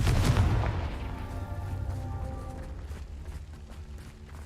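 A Confringo blasting spell explodes in the Hogwarts Legacy video game with a loud, deep boom at the start that rolls into a long, ringing rumble and slowly fades over several seconds, with no talking.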